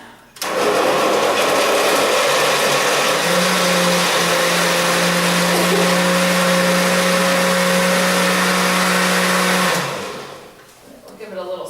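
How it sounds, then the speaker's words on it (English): A blender whirring through pumpkin at a cooking class: a loud, steady motor drone that starts abruptly, holds for about nine seconds, then cuts off, followed by faint handling noise. "This is my special Black Friday blender, so you'll see it makes really good noises as we blend it up"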